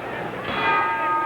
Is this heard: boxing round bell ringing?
yes